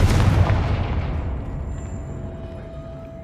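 A Confringo spell explodes in the Hogwarts Legacy video game: one heavy, close blast that booms at once and then rumbles away over about three seconds.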